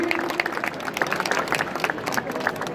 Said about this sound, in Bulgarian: Аплодисменти за многоуважаваното жури!